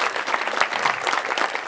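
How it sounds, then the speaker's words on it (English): A live audience at a business networking bootcamp claps in a round of applause for the host, a dense, even burst of many hands at close range, alone without speech. "can everybody give a massive round of applause to Dave for running the show"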